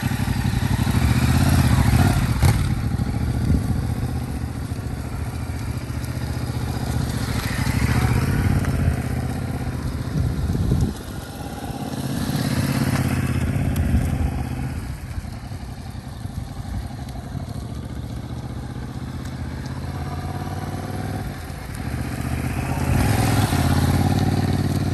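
Motorcycle rolling at very low speed with the clutch slowly eased in and out, a steady close engine rumble that swells and dips in gentle waves, with faint clatter and no talking.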